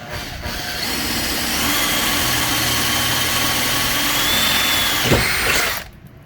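A power drill runs continuously for about six seconds, a steady close whirring motor hum that cuts off abruptly at the end, with a brief clunk just before it stops.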